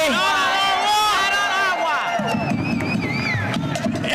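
Crowd noise at a political rally, with a voice speaking over the loud, steady din of the gathering and cheering swelling through the whole stretch.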